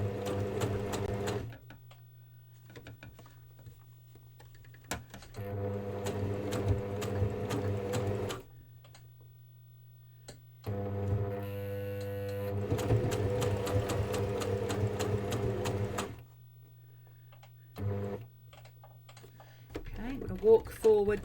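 A sewing machine stitching a double seam runs in several bursts of steady, close mechanical whirring, with pauses and clicks between runs, under occasional talk.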